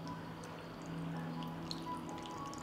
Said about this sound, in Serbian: Sipat ću vodu u teglu.